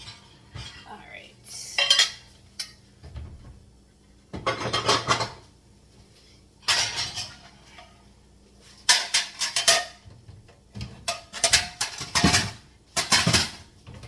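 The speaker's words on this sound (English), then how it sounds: "You know what's funny about putting dishes up when you're cooking?" Dishes and cutlery are put away in a home kitchen during cooking, heard as several separate bursts of clinking plates and rattling silverware between quiet gaps, close and fairly loud.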